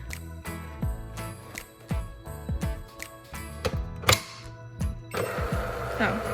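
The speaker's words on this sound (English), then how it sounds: "the printer is now on. I don't know where it's making that noise." Mechanical clicking, whirring and clunking from a printer just switched on, irregular rattles and short motor bursts with a louder grinding stretch near the end.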